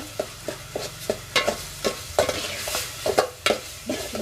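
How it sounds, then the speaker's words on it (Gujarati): Cauliflower dhokli curry being stirred and mixed in a pan: regular scraping strokes of a spoon against the pan over a steady background sizzle, close and alone. "મિક્સ કરી નાખશો બધું મિક્સ હલાઈ નાખશું"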